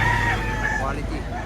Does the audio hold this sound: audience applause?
no